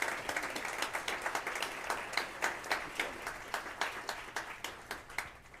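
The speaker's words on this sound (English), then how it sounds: "Can we get a round of applause?" An audience at a conversation event at the Oklahoma City National Memorial & Museum gives a round of applause, a steady crowd of hand claps with loose rhythmic peaks, moderately loud and heard without talk over it.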